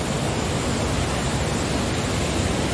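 Water from a mountain stream rushes down a steep slope into a deep hollow, a steady, dense broadband roar that holds even and unbroken throughout with no voices.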